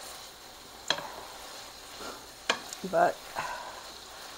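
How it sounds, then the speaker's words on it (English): Hamburger meat stirred and fried in a pan for taco soup, with scraping stirs breaking a steady low sizzle and a brief spoken word near the start. "I'm going to stir my hamburger and get that fried up"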